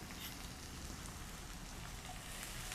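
Vegetables for jowar noodles sautéing in a pan, giving a soft, steady, rain-like sizzle that holds evenly throughout, faint and continuous with no talking.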